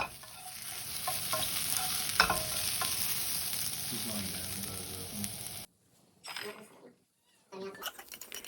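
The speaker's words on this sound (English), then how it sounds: "it is nice if you can get the potatoes browned a bit in the pan" Pre-cooked potatoes browning in a frying pan, sizzling steadily with stirring scrapes and clinks, then the sound cuts off and returns briefly after a pause.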